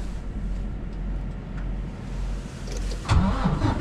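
A truck engine cranks and catches with a rough, steady rumble, then surges louder near the end as it fires up and runs, alone with no talk.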